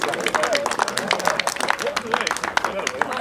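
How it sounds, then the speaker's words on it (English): Crowd applause at an outdoor MLK Day event in Lake Elsinore, scattered clapping and hand claps from an audience mixed with cheers and babbling voices close by. "Everyone give Dr. Quinlan a big round of applause, please."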